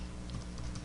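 Keystrokes tapping out a Linux apt-get command on a computer keyboard, a quick steady patter of close, light clicks over a faint background hum.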